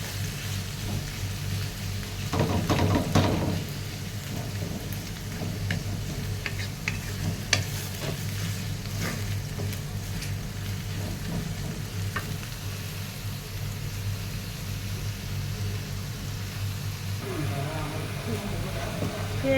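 Onions fry in a pan with a steady sizzle and crackle throughout, a louder bubbling burst near the start, with faint sounds of stirring.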